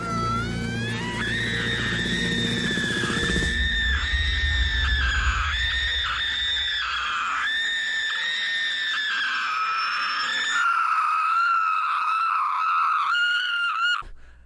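A woman lets out a long, piercing scream from Run Lola Run, held at a high pitch in wavering pulses for over ten seconds, loud and alone before abruptly cutting off.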